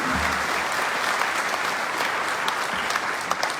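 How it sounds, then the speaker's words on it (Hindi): Loud, continuous applause from a crowd at a Lekhpal association convention in Lucknow, holding steady for several seconds with occasional sharper individual claps. "ना तालियां।"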